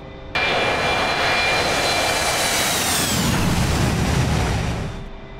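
An A-4 Skyhawk jet climbs out after takeoff in the DCS flight simulator, its engine a loud, steady roar with a high whine that starts abruptly, holds for about five seconds, then eases off slightly.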